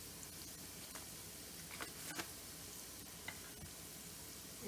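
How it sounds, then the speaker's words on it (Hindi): Whole spices, including cumin, dried red chillies and asafoetida, frying in hot oil for a Rajasthani panchmel dal tadka: a faint, continuous sizzle with occasional soft crackles and pops. "ये पूरा मिक्सचर थोड़ा थोड़ा फ्राई होने लगा है"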